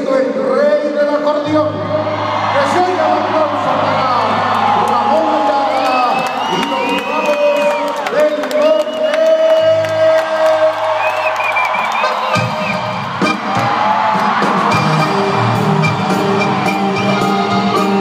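A concert crowd cheers, whoops and applauds for a norteño band, with loud, steady cheering layered over the band's music throughout.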